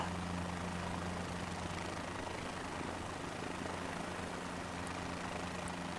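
Inside the cockpit of a helicopter in Microsoft Flight Simulator, a steady low engine drone with a faint rotor hum drones on evenly and quietly, with no talking.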